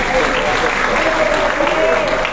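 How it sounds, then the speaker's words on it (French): Crowd applause in a hall at a Paris rally for Mali, a full, steady clapping texture with a faint tonal voice or murmur running underneath. "Applaudissez-la s'il vous plaît."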